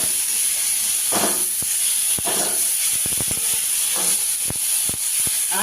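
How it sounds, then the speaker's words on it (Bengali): A pan of chhana curry cooking over a loud, steady hiss and sizzle, with a few intermittent scraping strokes of a spoon stirring it. "আর একটু নেড়ে নিচ্ছি"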